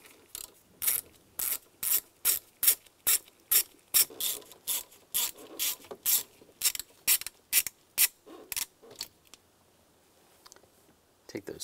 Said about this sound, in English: Now I'm going to use a T20 socket. We'll take the two screws out.